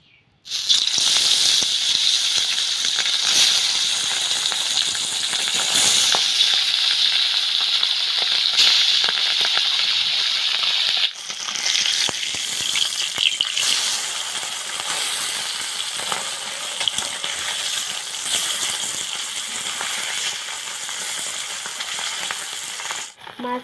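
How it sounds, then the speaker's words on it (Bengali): Pabda fish fry in hot oil with a loud, crackling sizzle close by, mixed with light rattles and clinks of handling, easing slightly in the second half. "মাছ আমি ভালো করে ভেজে নিয়েছি"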